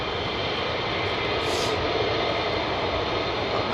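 An F-35 fighter jet roars steadily and loudly at RAF Lakenheath, a continuous broadband engine rumble lasting throughout with no talk.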